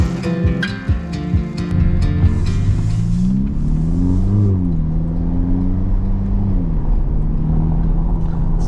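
A 2024 Ferrari Roma Spider engine revs loudly up and down, its pitch climbing then dropping through a downshift, close and steady with no talking.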